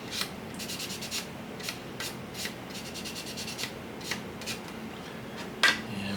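Fine polishing sticks rubbing on small plastic parts of a Tamiya 1/350 Fletcher destroyer model, quiet rapid back-and-forth scratching strokes in short bursts, close up, with a faint tap near the end.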